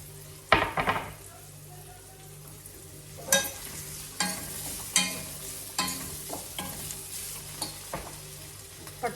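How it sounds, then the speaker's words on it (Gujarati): Potatoes tumble into a hot pan of browned spices and start frying. A close, steady sizzle is punctuated by several sharp scrapes and clatters from stirring, with no talking. "આ શેકાઈ ગયું છે તો આપણે એની અંદર પોટેટોસ નાખી દઈએ"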